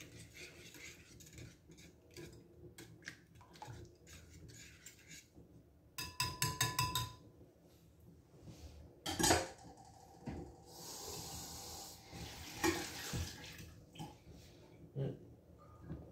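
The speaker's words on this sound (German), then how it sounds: "Dann verrühren wir das Ganze." A chickpea curry mixture stirred in a pot, with metal utensil scrapes and clinks against the cookware coming in bursts, a brief sharp clatter near the middle, and softer handling noises around it.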